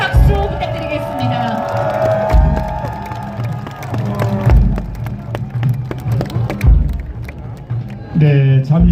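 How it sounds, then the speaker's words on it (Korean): A rally crowd in Seoul City Hall Plaza gives loud, sustained applause and cheering, with whoops and a pounding low beat underneath, swelling again near the end. "손학규 전 경기도지사께 다시 한번 큰 박수 부탁드리겠습니다"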